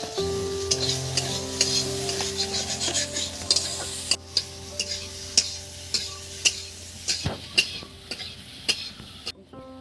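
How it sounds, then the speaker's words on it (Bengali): Mashed potato being stirred in a pan with pointed gourd and red chilli, with rhythmic spoon taps and scrapes against the metal over a soft sizzle, close and clear, with steady knocks growing sharper toward the end. "আলুটা একদম নেড়ে চেড়ে নিয়েছি"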